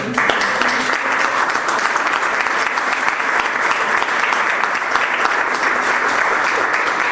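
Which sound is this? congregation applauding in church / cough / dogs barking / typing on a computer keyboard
congregation applauding in church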